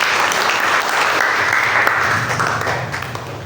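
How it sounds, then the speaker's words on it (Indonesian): Congregation applauding at a church service, a steady dense wash of many hands clapping together, loud and sustained, easing slightly toward the end. "Tepuk tangan untuk Tuhan Yesus Kristus."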